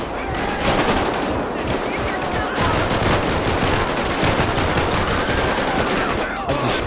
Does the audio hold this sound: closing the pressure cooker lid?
no